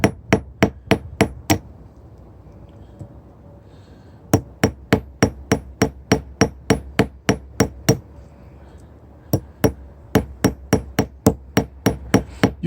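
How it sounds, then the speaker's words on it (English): Hand hammer peening chain loops on a vise or small anvil, a rapid series of sharp metallic strikes in bursts with short pauses between runs, close and loud with no talking. "So basically just peening around the outside."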